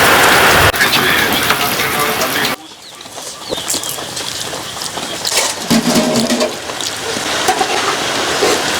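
Heavy rain pours down steadily, loud and close, with a clear break in intensity partway through, birds or a rooster faintly audible in the background.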